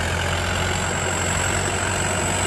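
A truck hauling a heavy load of cabbage bound for a produce market, its engine droning steadily with a low rumble and broad hiss, close and continuous for the whole stretch.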